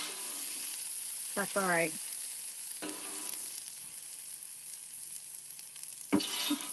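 Apples cooking on a Traeger grill, stirred with a spatula, give a steady broadband sizzle throughout, with brief scrapes and clinks, and a short spoken remark briefly rises over the frying.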